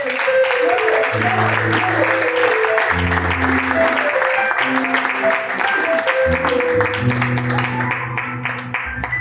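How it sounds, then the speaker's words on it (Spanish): A church congregation claps in praise during a Spanish-language sermon service, continuous loud applause layered over sustained keyboard or organ chords. "Dale un aplauso al Señor."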